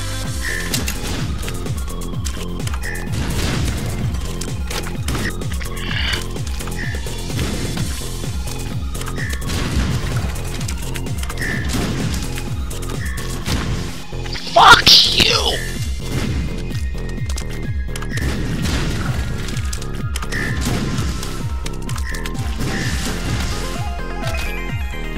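Missile blasts in the Super Meat Boy video game, repeated explosive thuds and crashes over game music, with one louder burst midway, while someone talks over the gameplay.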